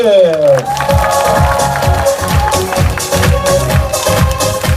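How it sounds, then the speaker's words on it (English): Audience applauding the kitchen staff at a resort evening show, a steady crowd clapping that stays loud and dense throughout, with music or a sustained tone carrying above it. "our kitchen personnel, and one more time, big applause!"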